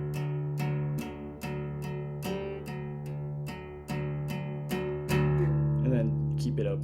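Guitar picks a repeated pattern on the fifth and sixth strings with the sixth string left open, giving steady, evenly spaced muted plucks at close range with a brief flourish near the end.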